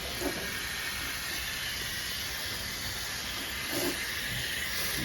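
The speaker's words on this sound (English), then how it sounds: "All right, we're putting the Cal Green on it now." Cal Green coil cleaner sprays onto corroded, salt-crusted evaporator coils in a continuous close hiss that stays steady and loud throughout, with faint knocks in the background.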